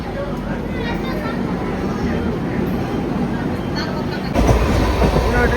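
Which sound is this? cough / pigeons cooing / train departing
train departing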